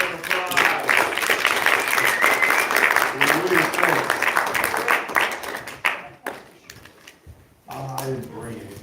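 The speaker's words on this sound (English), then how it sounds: "let's give Rick Ector a round of applause" An audience at a self-defense event applauds Rick Ector with a loud, full burst of clapping lasting about six seconds, then dies away as voices start talking.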